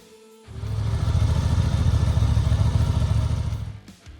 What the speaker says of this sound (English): Number 7. The Honda Transalp 750.